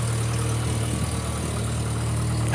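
A car's exhaust rumbles steadily at idle, a loud, even, low drone that holds unchanged throughout, with no talking over it.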